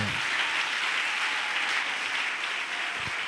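A church congregation applauds and cheers the Lord in sustained, dense clapping that fills the space evenly and loudly from start to finish.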